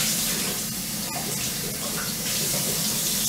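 Tap water runs steadily over a cast iron skillet being rinsed in a sink, a constant close splashing hiss with no talk.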